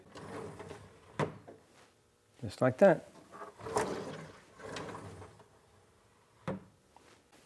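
A drawer slides in and out on basic drawer glides mounted with a Kreg jig, giving short wooden scrapes and a few knocks between bits of talk.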